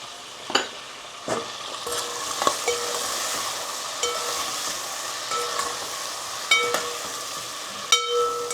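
Cluster beans (guar) with salt cook in oil in a pan, hissing and sizzling steadily. Sharp spatula clinks and scrapes of stirring break through at irregular moments.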